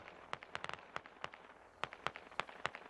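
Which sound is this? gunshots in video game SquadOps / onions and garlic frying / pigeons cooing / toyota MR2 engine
gunshots in video game SquadOps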